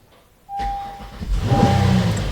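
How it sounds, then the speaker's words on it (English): A Honda Pilot engine cranks and catches with a sudden roar, then the revs climb high and hold, loud and close, with a faint tone under the engine noise. "did you hear the RPM go really high?"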